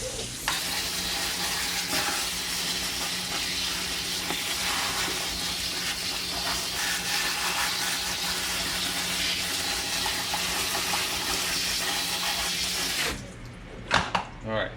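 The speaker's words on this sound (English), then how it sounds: "I have all of this okra here in a strainer. So I'm gonna go ahead and rinse all of this off" Okra in a strainer rinsed under a kitchen tap: a steady, loud stream of running water splashing through the pods for about thirteen seconds, then the flow stops, followed by a few soft handling knocks.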